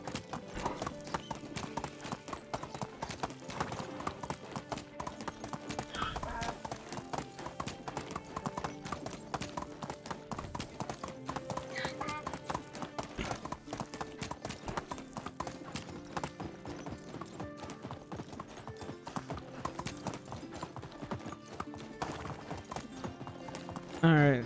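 A horse in the video game Medieval Dynasty gallops steadily, its rapid hoofbeats thudding in a continuous close rhythm for the whole stretch, layered over background game music and ambience.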